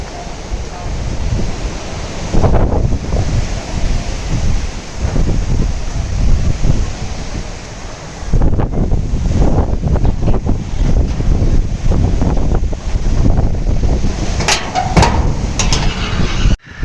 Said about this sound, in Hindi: पूरे घर में मजे मजे की हवा चल रही है